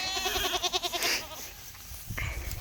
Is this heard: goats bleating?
yes